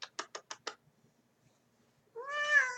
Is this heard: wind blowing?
no